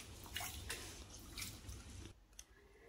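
Lentils and rice washed by hand in water, with close sloshing, squishing rubs and drips in uneven bursts, then quieter dripping.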